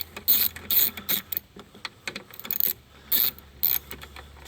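Rapid clicking bursts of a ratchet with an extension turning a 10 millimeter bolt on a Chevy's AC condenser, several quick ratcheting runs separated by short pauses, close and crisp.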